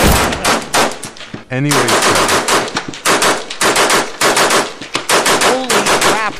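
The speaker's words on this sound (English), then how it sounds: "My machine gun has many bullets, but they shot it." Rapid machine gun bursts from the Melon Playground video game, loud and dense, firing in repeated volleys across the whole stretch with brief gaps, while a voice speaks briefly over the gunfire.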